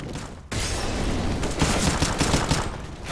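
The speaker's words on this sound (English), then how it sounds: "He sprays away, catches another kill, but Galantis is able to trade" A Counter-Strike match on the map Train has a player spraying automatic gunfire, rapid dense bursts running loud and continuous for about three seconds after a brief quiet start.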